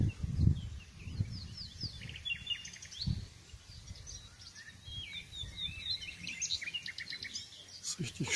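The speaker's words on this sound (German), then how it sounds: "Richtig schön hier, das Vögelgezwitscher." Birds chirp and sing along a rural walking path, quick bright calls scattered throughout, mid-distance and fairly soft over low rustling and footsteps, with no talking.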